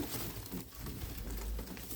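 Pigeons cooing softly amid a busy, noisy background, with low throaty calls blending together.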